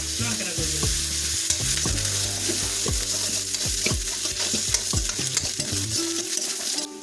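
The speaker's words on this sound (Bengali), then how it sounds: "আদা কুচি, রসুন কুচি আর কারি পাতা যোগ করার পর এটাকে আমরা প্রায় মিনিট 2 নাড়াচাড়া করেছি" Chopped ginger, garlic and curry leaves frying in oil while being stirred, a loud constant sizzle punctuated by a regular series of spatula scrapes and knocks against the pan, no speech.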